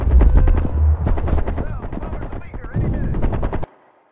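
Heavy machine gun fire from a ridge in a Black Ops Cold War campaign battle: loud, rapid bursts of shots over booming explosions and shouted voices, cutting off abruptly near the end.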